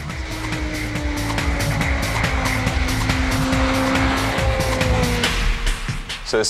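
An Ariel Atom sports car driving hard, a loud continuous engine roar with rising gear tones and gritty tire noise, close and dominant, easing slightly near the end.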